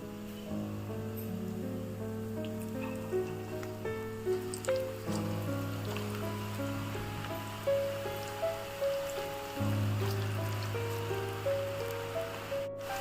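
Egg pakoda fritters sizzle and crackle in hot oil, a steady close bubbling hiss with scattered pops, with a tonal background sound running underneath.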